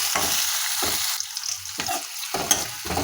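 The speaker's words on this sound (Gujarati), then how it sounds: "તો એમાં મેં હવે 1 મોટી ડુંગળીને આવી લાંબી લાંબી સમારી લીધી છે એ ઉમેરીએ અને સાંતળી લઈએ।" Sliced onion sautéing in hot oil after cumin, for a palak matar sabzi, gives a steady sizzle with repeated scraping bursts as the pan is stirred at a regular rhythm, close and alone.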